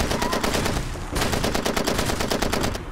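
Automatic gunfire in the African warzone shooter Far Cry 2 rattles in rapid, continuous bursts, loud and close, with a brief break partway through.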